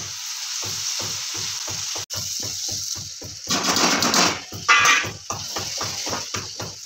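Cumin, garlic and salt sizzle in hot oil with a loud, steady frying hiss that swells and crackles partway through, over a regular background thumping.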